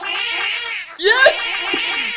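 A cat meows and caterwauls loudly and close during a game stream, with a drawn-out, rising and falling yowl that is interrupted briefly and then resumes.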